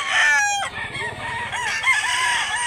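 A rooster crows loudly and close by at a chicken sale in Mantalungon, Barili, Cebu, one full drawn-out crow with faint clucking behind it.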